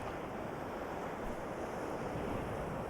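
Sea waves wash steadily onto the shore as a soft, continuous rushing surf, faint and distant, with a light breath of wind and no voices.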